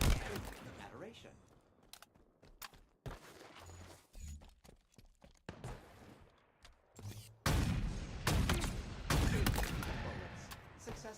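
Gunfire in the Halo video game during a competitive match, with bursts of shots and sharp impacts coming in clusters, loud and close, mixed with crunchy effects and occasional quieter gaps.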